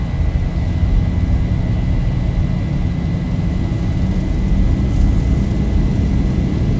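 Jet engines of a Boeing 737-800 in X-Plane 11 run at takeoff power, giving a steady, loud, close roar with a low rumble and a thin high whine.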